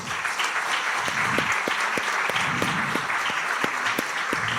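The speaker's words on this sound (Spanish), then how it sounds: "Un fuerte aplauso nuevamente para ellos." An audience at a morning conference in a hotel in Quillota breaks into sustained applause. Many hands clap steadily and fairly loudly throughout, with no one speaking.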